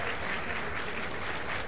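Sustained crowd applause after a women's professional boxing match that ended in a second-round TKO, a dense, steady clapping from a large audience that holds level throughout with no voices over it.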